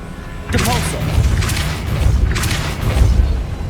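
A Depulso spell blast in Hogwarts Legacy: a sudden heavy booming impact with rumbling, crashing follow-up bursts, loud and close, with a voice briefly heard at the start.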